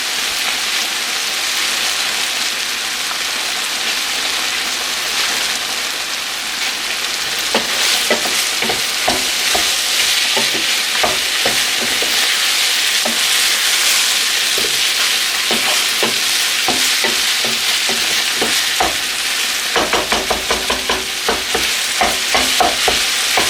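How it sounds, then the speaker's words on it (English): Beef mince fries loudly in a pan, a dense continuous sizzle with rapid crackling pops and scraping stirs throughout, growing busier toward the end as the fat renders. "this is starting to really fry up, so I'm just going to turn the heat down a tiny bit"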